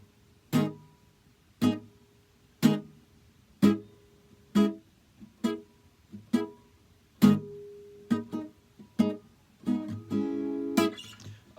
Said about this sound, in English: the simple way to play this song would just be to reggae chuck those 3 chords